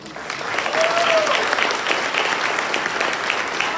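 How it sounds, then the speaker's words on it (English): An audience at a high school senior awards ceremony claps for a scholarship recipient, a dense, sustained burst of applause that swells and stays strong throughout, with a brief voice or whistle rising above it. "Please join me in giving Adrian another applause."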